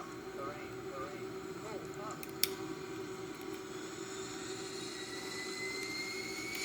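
Steady roar of an Airbus A340's jet engines under increased thrust during manual flight, a constant broadband drone with tonal whine heard from inside the aircraft, with one brief click partway through.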